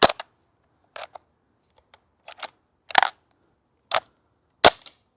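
Krytac KRISS Vector gas blowback airsoft SMG firing its final BBs, a handful of sharp separate cracks spaced about a second apart, close and crisp, ending with the bolt locking back, no voices.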